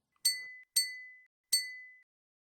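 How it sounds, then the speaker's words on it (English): Three bright glass clinks from the video game Z.A.T.O., each ringing briefly and fading, evenly spaced and clear against silence. "That clinking. It could be heard through the phone as well."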